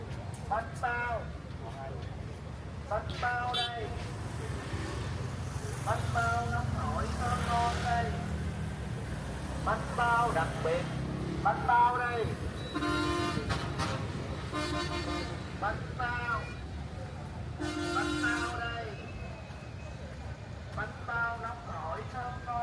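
Steady street traffic beside a beach at My Khe, Da Nang, with repeated short car and motorbike horn toots over a constant engine rumble, while someone narrates throughout.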